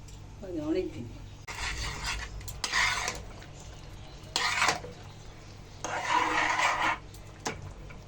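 Raw mango pickle mixed with jaggery in a pot, heard as several bursts of scraping and stirring of utensil against metal, separated by pauses, close by, with someone talking between strokes.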